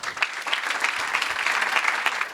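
Audience applause for a panel at a green-economy workforce event, a brief burst of dense, even clapping from a roomful of people.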